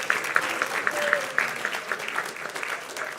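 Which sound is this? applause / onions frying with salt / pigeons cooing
applause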